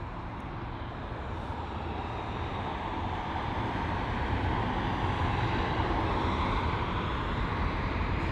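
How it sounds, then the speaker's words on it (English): British Airways Airbus A380 taxiing at London Heathrow, a constant low engine rumble and rush that swells slightly and holds steady throughout, with no voices. "the British Airways A380 as he taxis"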